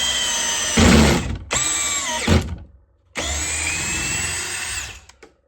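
A DeWalt DCD803 cordless drill with DeWalt bits drives in short bursts, its motor whining up and down through three separate runs with brief pauses, loud and close.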